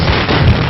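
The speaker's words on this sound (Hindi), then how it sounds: "पटाखे फोड़ो" Firecrackers going off at a village welcome: a loud, dense, crackling roar of bursts over less than a second, close and harsh.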